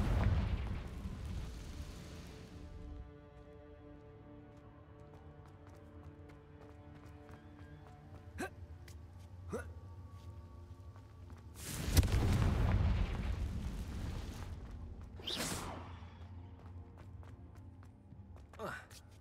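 Confringo fire blast spell in the Hogwarts Legacy game, with several sharp magical cracks early on, then a loud booming explosion followed by another burst, over a sustained musical score and effects.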